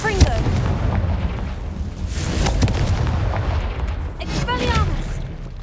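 Confringo explosive spell blasts in Hogwarts Legacy, heavy booming bursts repeated several times over a rumbling game soundscape, with a voice speaking briefly between the blasts.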